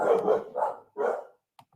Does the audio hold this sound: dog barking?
yes